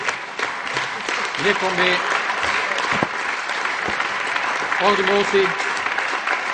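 Sustained applause from a council chamber audience, a dense steady clatter of clapping that continues while a chairperson speaks over it.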